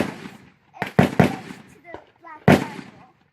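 A .243 deer rifle fired while being sighted in, giving a few sharp cracks spaced over a few seconds, with voices talking between the shots.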